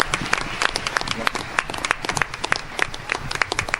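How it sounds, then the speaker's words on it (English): An audience at a school board of education meeting applauds the softball and girls soccer teams, dense close clapping that carries on steadily from start to end. "So round of applause for them."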